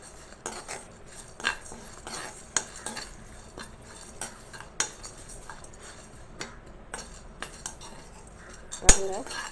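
Spices and curry leaves being dry-roasted in a pan for rasam, with a spatula stirring and scraping and irregular metallic clinks and taps against the pan, fairly close over a low background hum.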